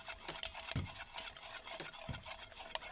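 Candle wax melting in a pot is stirred with repeated soft scraping strokes, a few sharper knocks against the side, steady and close with no talking.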